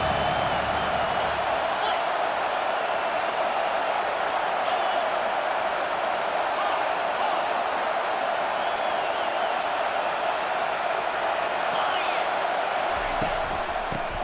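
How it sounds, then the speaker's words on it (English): Stadium crowd in a College Football 25 game roars in a loud, steady wash on third down, sustained for the whole stretch with no breaks. "3rd down, and this crowd will blow out a vocal cord to help this defense"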